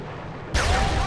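A grenade explodes in the World War II shooter Sniper Elite V2, a single sudden loud blast cutting in after quiet background and leaving a rumbling, crackling tail.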